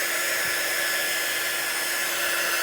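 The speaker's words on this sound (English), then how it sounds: "I'm just going to use this quick dry tool to get it dried" Steady, even whoosh of a quick dry heat tool blowing over chalk paint on a pumpkin craft, running continuously at close range with no talk.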